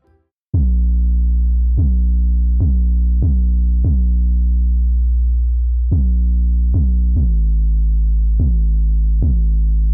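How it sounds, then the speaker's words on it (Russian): An isolated 808 sub bass from a music mix plays alone: deep, loud booming notes struck about a dozen times in a loose rhythm, each with a sharp attack and a long sustained low tail that pitch-glides slightly between hits. "Послушаем саб изолированно."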